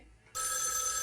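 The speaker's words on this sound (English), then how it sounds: "We're gonna hear the phone one more time, okay?" A telephone rings in the video game Spirit Hunter: NG, a loud, bright electronic bell tone that starts abruptly after a moment of near silence and holds steadily.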